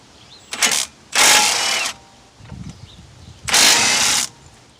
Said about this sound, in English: You'll need a 13mm socket to remove the two caliper bolts.